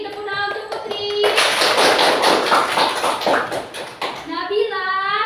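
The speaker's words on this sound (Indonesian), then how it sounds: "Tepuk tangan untuk Putri." A classroom of students claps for a classmate, a loud dense burst of hand clapping lasting about three seconds, with children's voices talking before and after it.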